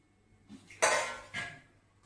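A metal plate for steaming idli is set down and handled over a stand, giving a few close clinks and one sharper clatter, faint otherwise and without talk.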